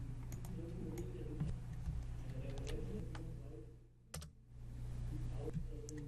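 Rapid clicking taps on a computer keyboard, quiet and close, with short pauses between bursts over a low steady hum.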